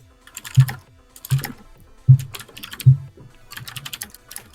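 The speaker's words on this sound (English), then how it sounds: "Stop typing, guy." A computer keyboard is typed on during a tabletop game session, producing close, distinct bursts of clacking keystrokes roughly every second, separated by short pauses, with no speech.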